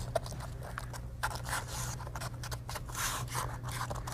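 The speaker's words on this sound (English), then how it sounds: "I'll cut the backer rod there" Foam backer rod for filling gaps along a log is cut with a blade, giving soft scraping and snipping sounds in a few short strokes, close and quiet over a low background hum.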